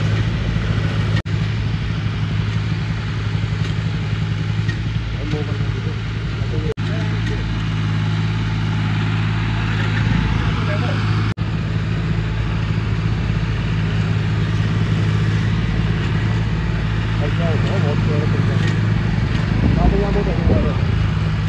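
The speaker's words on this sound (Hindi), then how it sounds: "ये जो ट्रैक्टर है जॉन डियर है और फुल गोबर से भरा हुआ" A John Deere tractor fully loaded with dung runs steadily close by, its engine holding a constant mid-pitched drone through the whole stretch while someone talks over it.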